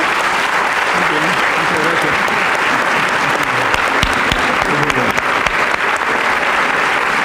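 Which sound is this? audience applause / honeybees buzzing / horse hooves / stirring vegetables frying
audience applause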